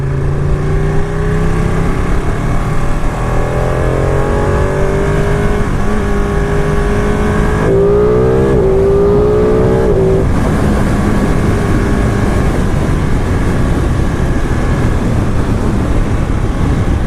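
Engine of a 2018 Ducati Panigale 959 Corse motorcycle revs up through several gears with rising and falling pitch sweeps and sharp shift blips, loud and close throughout, ending in a steady rumble with no talk.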